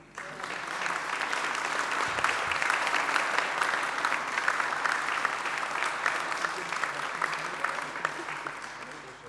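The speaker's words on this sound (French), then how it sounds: "On les applaudit." A church congregation applauds the youth group after a Christian unity prayer service, sustained full clapping that swells quickly and holds evenly for about nine seconds.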